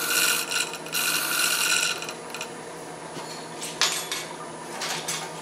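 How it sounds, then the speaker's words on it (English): A parting tool cuts a ukulele resonator soundwell spinning on a lathe, giving a close metallic scraping and chattering with bursts of harsh rattling over a steady machine hum. "Use my parting tool for this."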